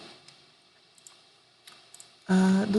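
Computer mouse clicks while editing in Photoshop tick softly and sparsely, a handful of faint, close clicks at uneven intervals, before a voice begins speaking at the end.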